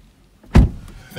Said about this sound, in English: Would you like me to close the door?